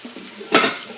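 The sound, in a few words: beef and broccoli stir fry sizzling in pan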